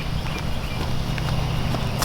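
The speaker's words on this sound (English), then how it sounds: "I want her to shift gears into the trot as gentle as possible." Horse hooves trot steadily on soft ground in a riding arena, a muffled, even rhythm under constant wind-like background noise.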